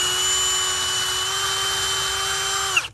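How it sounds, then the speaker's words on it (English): A power drill pre-drilling holes while a storm door is installed, whining at a steady high pitch for nearly three seconds before spinning down abruptly, loud and close. "and you have to pre-drill these"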